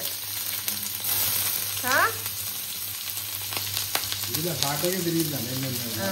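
Garlic frying in a pan for restaurant-style Chinese noodles, a steady broadband sizzle running throughout with occasional stirring clinks, while voices talk faintly in the background.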